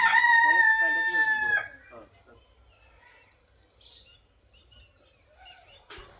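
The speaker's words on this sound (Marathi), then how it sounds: "त्यामुळे जनावराचे आवाज कोंबड्याचे आवाज ते तुम्हाला ऐकायला येतच" A loud, close rooster crows once in a long drawn-out call on a village farm in the morning, followed by quieter background sounds and faint distant noises.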